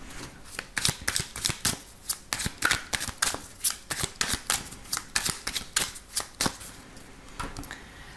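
A deck of oracle cards is shuffled by hand up close. Quick riffling snaps and flutters come in uneven bursts, crisp and papery, and no one speaks over them.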